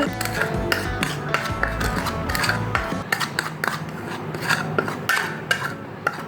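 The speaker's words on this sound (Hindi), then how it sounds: "ये हमने मिक्स कर दिया है और ये मसाला हमारा रेडी हो गया है" Garam masala, Kashmiri red chilli powder and cumin being stirred together in a bowl, a busy run of close scraping, clinking and rasping taps of a spoon against the dish, with no talk.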